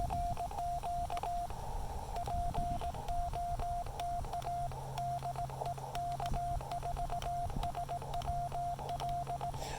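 Morse code CW signals on the 20 meter band from a Yaesu FT-817ND radio: a steady beeping tone keyed on and off in quick irregular dots and dashes over constant static hiss and a low hum.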